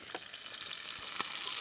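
Potatoes frying in steak juice in a pan at a car campsite, giving a faint steady sizzle with a couple of soft stirring knocks, quiet and close.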